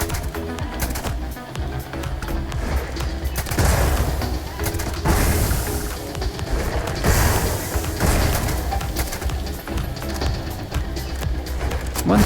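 Silenced Despondent Assassin rifle firing in Starfield, a dense run of suppressed shots and impacts layered over steady game ambience and music, fairly loud throughout.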